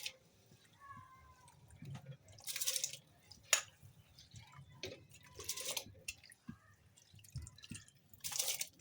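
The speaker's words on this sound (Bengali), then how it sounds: "আস্তে আস্তে করে সবটাই জল দিয়ে দিচ্ছি" Water is poured slowly over soaked, ghee-coated rice for biryani, with quiet intermittent splashes and trickles in short bursts and faint background clatter.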